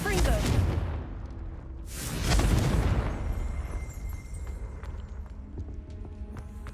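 The Confringo fire spell in Hogwarts Legacy goes off as two heavy whooshing blasts in quick succession, each a loud burst that dies away into a rumbling, crackling tail.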